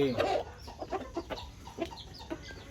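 Hybrid jungle fowl chickens cluck in a short run of separate calls, one louder burst up front followed by several softer clucks spaced irregularly, fairly close with light background noise.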